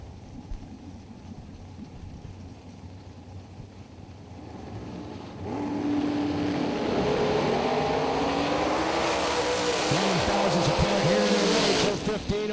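Drag racing cars launch down the strip at a bracket race, their engines rising from a low idle to a loud sustained roar that climbs in pitch and fills the clip without a break.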